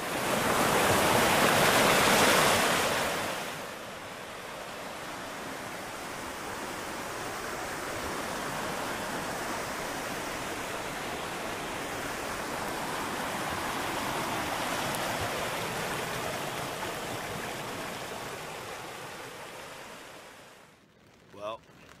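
A massive river bursting out from underground along the Alexandra and Castleguard backcountry roars as a steady, loud broadband rush, swelling near the start and holding constant before cutting off abruptly at the end.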